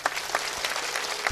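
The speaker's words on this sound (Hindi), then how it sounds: "जरा ताली बजाओ।" An audience claps together at a religious question-and-answer gathering in Damoh, Madhya Pradesh, a steady, dense burst of applause that fills the short moment with no voices over it.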